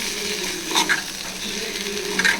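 Mutton brain frying and being stirred in a pan over a slow flame, a steady close sizzle with a few brief scrapes of a spatula against the pan and no voices.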